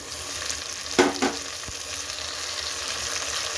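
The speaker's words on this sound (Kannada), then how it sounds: "ಟೊಮೆಟೊ ಚೆನ್ನಾಗಿ ಇವಾಗ ಬಾಡಿಸ್ಕೊಳ್ಳಿ" Tomatoes sautéing with onions in a pan for menthya bhath, a continuous sizzle broken by a couple of sharp stirring scrapes near the start before settling into a steady fry.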